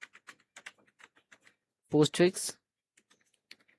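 Quick light keystrokes on a computer keyboard as C code is typed, soft scattered clicks close by, with a short burst of voice in the middle.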